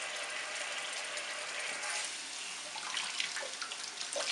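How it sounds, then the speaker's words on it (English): A tap runs in a sink while a baby doll is rinsed with cold water: a steady, close hiss of flowing water with occasional splashes and drips, no talking. "You can rinse the baby with cold water."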